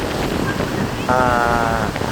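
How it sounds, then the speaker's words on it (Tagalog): Strong wind buffets the microphone at a seaside venue, a continuous loud roar with surf-like rushing and a brief tonal whistle, while a person talks. "kay perting kusog ang hangin"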